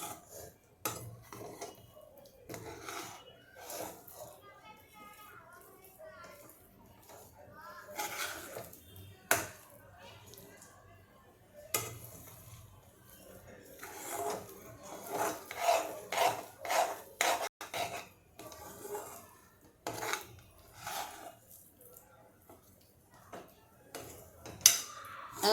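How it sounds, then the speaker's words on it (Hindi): A spoon scraping and rubbing against a kadhai while jaggery melts, with irregular rasping strokes and clinks over 25 seconds, some louder bursts of scraping, faint background noise, no talk. "जब तक ये गुड़ पिघलता नहीं है इसको मैं हिलाते रहूँगी।"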